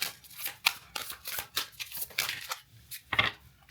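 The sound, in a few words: shuffling a deck of tarot cards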